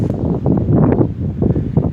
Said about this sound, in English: it's windy today, so you might not be able to hear me